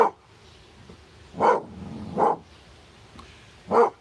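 A dog barks indoors, four separate moderately loud barks spaced about a second apart, with quiet room noise between them.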